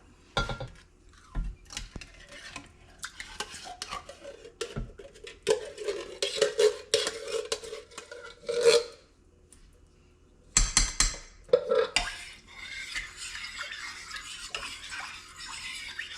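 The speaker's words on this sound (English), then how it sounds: "Stir that in real good." A spoon scrapes and clinks around a pot of chicken and potato soup, intermittent metallic stirring sounds with brief pauses, fairly quiet and close, without talk.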